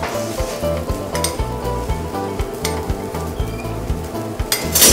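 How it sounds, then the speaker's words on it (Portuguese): Panko-breaded fillets frying in a generous drizzle of olive oil in a hot pan, a loud close sizzle with regular stirring knocks and a few light metallic clinks, rising in intensity at the end. "Eu vou fritar esses bifinhos"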